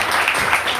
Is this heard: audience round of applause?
yes